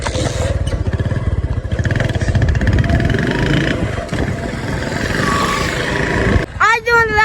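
A loud, rumbling motorcycle engine runs steadily close by, pulsing throughout, and a few sharp rising tones cut in at the very end.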